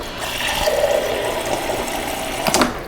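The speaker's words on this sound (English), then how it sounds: "let's look at the water and ice dispenser first. Water comes out extremely fast." Water gushes fast and steadily from the water and ice dispenser of a Samsung RF23M8090SG four-door French door refrigerator, pouring as a loud continuous splash that ends in a short clatter.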